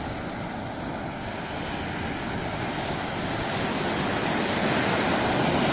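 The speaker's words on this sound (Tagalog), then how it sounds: "Sobrang alon." Rough sea waves crash steadily on an island shore in the Philippines, a continuous roaring surf with wind noise that grows slightly louder toward the end.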